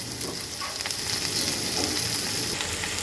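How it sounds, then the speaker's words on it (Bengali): Bitter gourd pieces frying in hot oil in a wok give a loud, continuous close-up sizzle with faint stirring scrapes, no talking. "কড়াইতে তেল গরম করতে বসিয়ে দিয়েছিলাম আর এখন আমি দিয়ে দেব করলাগুলো"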